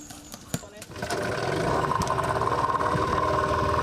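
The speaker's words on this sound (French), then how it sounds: "Le moteur de 15 chevaux nous propulse au large de la lagune Tagba" A 15-horsepower outboard boat motor running on the Tagba lagoon, its steady engine drone rising after a second and continuing loud and close, with someone talking over it at first.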